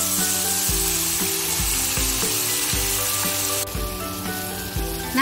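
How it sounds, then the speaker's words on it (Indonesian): Spice paste for anchovies and cassava leaves sizzles steadily in reused frying oil, a loud, close, continuous fry with rhythmic scraping knocks of a spatula stirring the pan, no voices. "Sekarang kita tumis untuk bumbu ikan teri sama daun singkongnya ya"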